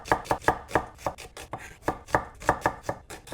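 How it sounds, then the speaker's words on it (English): A knife thinly slices onions on a board, giving about fifteen quick, evenly spaced chopping thuds in a brisk rhythm, close and loud with no speech. "So just going to thinly slice these."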